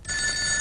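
A landline telephone bell rings in a single short burst, loud and close, with a bright sustained metallic ring and no voices over it.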